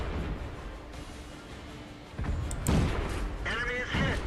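Tank gun shells fire in World of Tanks as the H-35 engages, low booming thumps landing around the two-second mark and again near the end over steady engine rumble and battle noise.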